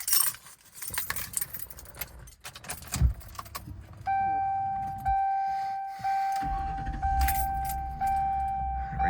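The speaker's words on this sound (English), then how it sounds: "Let me grab the keys and we can start it up" Car keys for a 2007 Lincoln Town Car Signature L jingle and clink loosely as they are picked up. A series of clear, evenly spaced electronic chime tones follows, up close and without talk.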